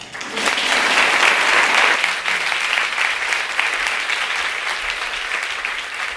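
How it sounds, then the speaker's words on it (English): Applause from an audience at an awards event swells quickly to a loud, dense roar of clapping, then holds steady at a slightly lower level to the end, with no talking over it. "Applaud for her now."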